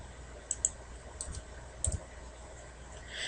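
A few scattered computer keyboard keystrokes, faint and isolated clicks spaced over a quiet background, with no talk.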